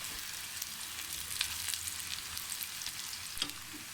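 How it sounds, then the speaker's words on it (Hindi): Potatoes and onions fry together in a pan, giving a continuous close-up sizzle with occasional soft stirring knocks, with no talking. "अब हम इसमें आलू डालेंगे और आलू को भी हल्का सा फ्राई करना है"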